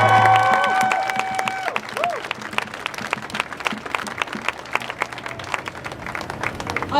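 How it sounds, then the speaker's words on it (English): Crowd at a street rally bursts into loud applause and cheering, dense clapping sustained for several seconds with voices shouting through it. "I also want to hear a big round of applause"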